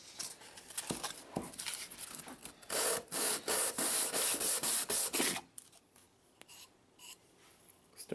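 Hand sanding a Tapco vertical grip with 150 grit sandpaper, giving repeated close scratchy back-and-forth strokes that grow louder in a steady run midway, then ease into lighter, softer rubbing.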